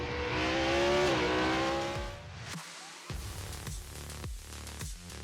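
An autocross race car accelerates hard, its engine note climbing loudly before cutting out briefly, then returning in further revving bursts with quick shifts and a faint tire squeal.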